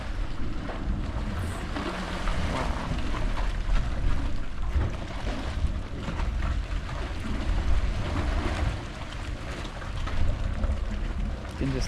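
A thermal steam vent at Yellowstone National Park, a loud, continuous roaring rush with no pauses, heard close and alone.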